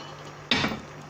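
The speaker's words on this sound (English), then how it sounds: "I have 150 ml of water with cornstarch, so I'm gonna pour this in." Cornstarch water is poured into a hot pan of kimchi gyoza dumplings, setting off a sudden loud hiss and sizzle after a quiet moment, fading slightly as it continues.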